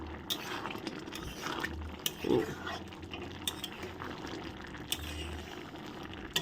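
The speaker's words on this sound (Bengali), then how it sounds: "এখন দিয়ে দিচ্ছি গরম মশলা" Garam masala goes into a pot of simmering ghugni, with a soft metallic clink of a spoon against the pan, light stirring and a quiet bubbling underneath, all faint and close.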